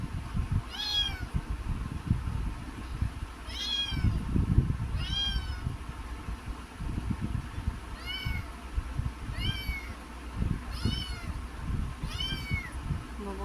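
A restless house cat meows about eight times at fairly even intervals. Each cry is clear and drawn out, over low thumps and soft background noise.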